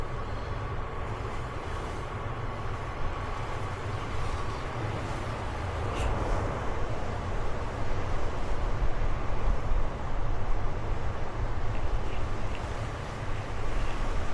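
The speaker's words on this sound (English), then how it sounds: "just been enjoying watching the waves, listening to the waves crash." Waves crash along a coastline as a dense, steady low roar of surf, with wind rumbling across the microphone throughout and no voices.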